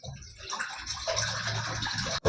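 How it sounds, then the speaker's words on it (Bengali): Water pours steadily from a one-litre bottle into a pan for sugar syrup, a close splashing gush that builds and ends with a brief clink. "এখানে আমি সব জলটাই কিন্তু দিয়ে দিচ্ছি।"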